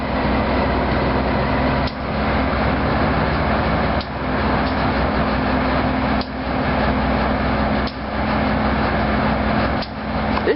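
Amtrak GP15 diesel locomotive idling close by, a steady low engine drone with a humming tone, broken by a few brief dips every couple of seconds.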